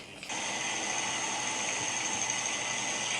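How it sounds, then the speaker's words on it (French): A ceiling fan producing steady white noise, a dense even hiss with a faint mechanical whir that starts abruptly and holds constant, close and alone. "c'était un ventilateur de plafond"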